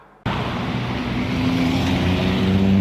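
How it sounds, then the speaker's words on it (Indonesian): Steady low diesel engine rumble from idling buses and trucks queued at a fuel station in Manado, starting abruptly and holding loud and continuous. "Antrean panjang kendaraan bus dan truk masih terus terjadi setiap hari"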